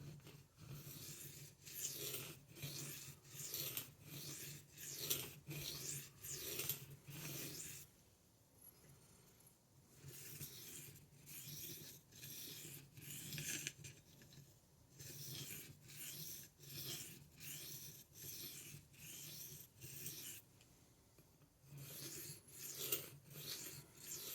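A blade being sharpened on a 1000 grit stone, rhythmic rasping strokes back and forth in quick runs with brief pauses between sets, close and fairly quiet.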